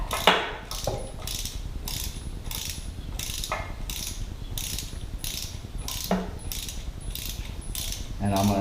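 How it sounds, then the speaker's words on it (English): Ratcheting torque wrench clicking in steady repeated bursts while tightening 1/4 inch bolts on a Vance & Hines Mini Grenades exhaust for a Harley-Davidson Iron 883, close and clear with no talk. "I'm going to torque down the 1/4 inch bolts to 80 to 120 inch-pounds."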